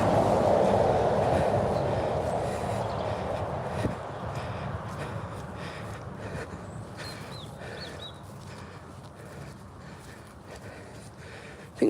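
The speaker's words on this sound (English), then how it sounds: "I can definitely hear the train in the background" Low rumbling rail noise of a train rolling by at a distance in open countryside, a steady broad wash that slowly fades over the stretch, with faint bird chirps on top.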